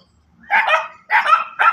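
Several dogs bark in short bursts, a cluster of yaps then two more quick barks, fairly close and loud against a quiet background.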